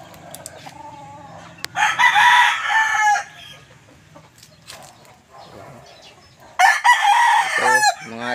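Young gamefowl stags in a backyard crowing loudly in two nearby bursts, with softer clucks and chatter from other birds between them.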